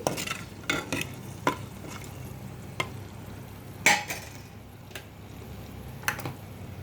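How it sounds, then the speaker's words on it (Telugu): Dry red chillies frying in hot oil for a drumstick-leaf dal tempering make a soft, continuous sizzle, broken by several sharp stirring scrapes at irregular intervals, close and fairly quiet. "ఆయిల్ వేడైంది ఎండుమిర్చి వేసుకున్నాం చక్కగా ఎనిమిరపకాయలు ఫ్రై అవుతుంది"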